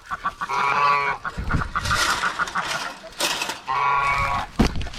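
Loud, nasal honking calls from several chickens close by on a farm, repeated in bursts with a flurry of squawks in between.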